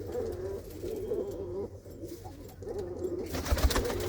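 Pigeons coo in low, throaty, continuous murmurs, several birds overlapping at close range, with a brief scuffle of movement near the end.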